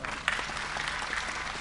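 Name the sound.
audience applause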